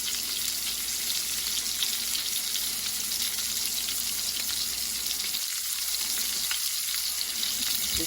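Bacon cheeseburger patties fry in a pan with a steady, loud sizzle that holds for the full stretch, broken only by a couple of brief dips as the patties are shifted.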